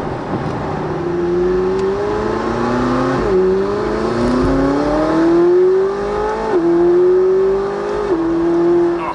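A McLaren 600LT engine accelerates hard, its exhaust note climbing in pitch through several gear changes, loud and close with a steady roar throughout.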